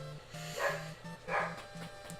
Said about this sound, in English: Apologies if you hear my chud dogs barking in the background.